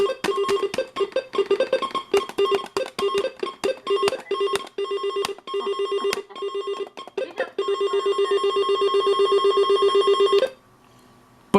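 AlertWorks EAR-10 weather alert radio sounds a rapid, chirping electronic alert tone, warbling and stuttering in fast bursts before settling into a steady continuous tone that cuts off sharply.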